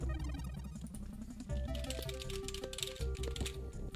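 Computer keyboard keys clatter in dense, rapid typing, close and steady throughout, mixed with background music during a development livestream, with no talking.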